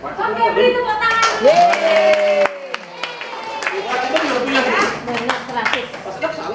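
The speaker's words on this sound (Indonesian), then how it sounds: "Oke, beri tepuk tangan." Scattered audience hand claps at an Indonesian teacher workshop, sharp separate claps that come and go, heard mostly under people talking and exclaiming.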